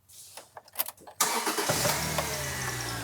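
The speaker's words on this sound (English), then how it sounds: "fire the car up, and let it cool down" A Subaru car engine cranks and catches near the end of its first second, then settles into a steady, loud idle that continues; a few faint clicks and shuffles come before the start.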